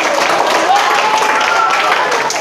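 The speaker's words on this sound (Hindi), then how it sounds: "चलो चलो ताली बजा दें" Children clap together in a steady, continuous burst of applause during an outdoor game for young kids, loud and close, with a voice faintly audible underneath.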